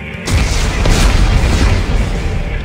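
Explosives going off in Dead Space 3, a sudden loud boom that opens into a sustained, roaring rumble of blast and debris lasting a few seconds, dense and close, with no voices.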